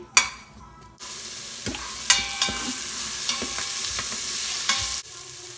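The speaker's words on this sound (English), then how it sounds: "chopped onions, and I'm just going to heat that up, as well as about 1 or 2 garlic cloves" Chopped onions and garlic cloves are sautéed in an Instant Pot. A loud sizzle starts after a brief quieter stretch and holds steady, punctuated by several stirring scrapes, close up and alone.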